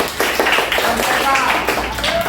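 Students in a classroom give a short burst of clapping, a close, busy patter of hands that lasts a couple of seconds, with a voice talking over part of it.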